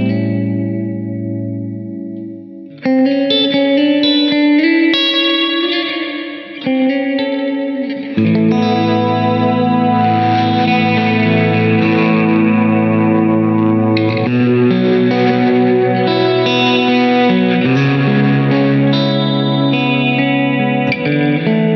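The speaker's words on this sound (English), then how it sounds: "this is the kaleidoscope. That's a reverb with compression and distortion after the reverb tail." Electric guitar tones played through a JPTR FX Kaleidoscope pedal, a reverb followed by compression and distortion, loud, sustained and washed out, with chords swelling into long distorted, shimmering tails.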